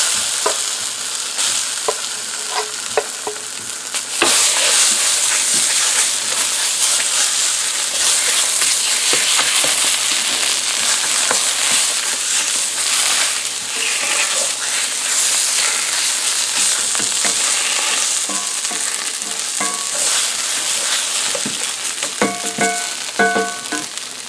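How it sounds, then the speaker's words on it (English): Refried beans warm over lowered heat in a pan, giving a continuous loud sizzle and crackle, with occasional scraping as they are stirred. "I'm going to turn down the heat and just let the heat of the pan warm up these beans"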